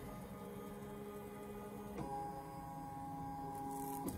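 An embroidery machine runs a quick trace of a design outline, giving a steady mechanical whir with shifting motor tones and a change in pitch partway through, heard alone at moderate distance.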